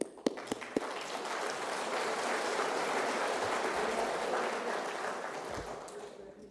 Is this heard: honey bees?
no